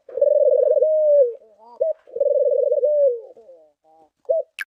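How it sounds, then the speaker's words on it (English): A pigeon coos nearby in two rolling, trilled phrases, each trailing into softer short coos, clear and alone. "Pigeon."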